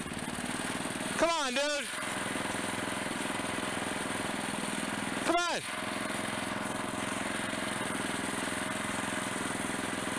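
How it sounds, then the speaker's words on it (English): A 1989 car engine idles roughly at startup, a steady low rumble with two brief revving surges, while a man urges it on in the foreground. "Sitting there worried about it idling rough at startup."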